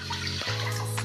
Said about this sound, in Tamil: ஒரு ரொட்டை தண்ணி ஊற்றிக்கலாம்.